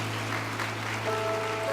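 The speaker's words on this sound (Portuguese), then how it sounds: "Aplaude ao Senhor por isso" A church congregation applauds together in a dense, even wash of clapping over a steady low hum, with a sustained tone entering toward the end.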